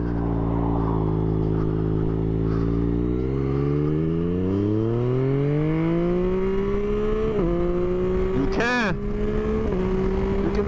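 A motorcycle engine rises steadily in pitch as the rider accelerates through a U-turn in front of a truck; the engine runs close and continuous, with a short sharp burst near the end.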